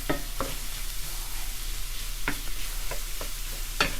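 Sliced mushrooms and onions sizzle steadily in a hot pan, with a few sharp stirring scrapes cutting through the constant frying hiss.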